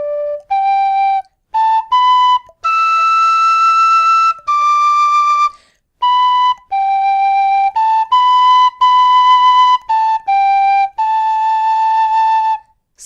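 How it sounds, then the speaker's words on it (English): Tin whistle playing a plain melody with no ornaments, clear separate notes in a steady phrased rhythm with short gaps, bright and close, alone with no talking. "if I was going to play that tune without any ornaments"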